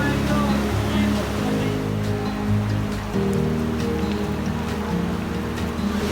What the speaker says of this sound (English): So this is the third waterfall, Trini, isn't it?